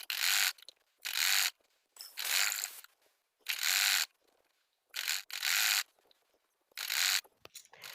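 A sewing machine stitches a strip onto a blouse in several short, loud, close bursts of rapid mechanical whirring, each separated by a brief silent pause.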